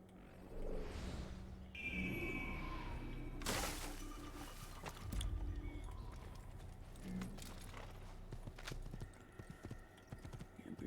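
Horse hooves clip-clop at an irregular pace in Assassin's Creed, mixed with other game effects, including a brief shattering crash and scattered clatter.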